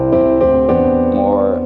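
A sampled grand piano in a Kontakt plugin, played hard without the soft setting, rings out a quick run of about four bright, firmly struck notes that sustain and blend, heard alone and up close.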